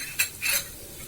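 Mustard seeds, cumin and chana dal sizzle in hot oil for a red chilli gongura pickle tempering, a couple of brief crackling bursts close by, with no talking.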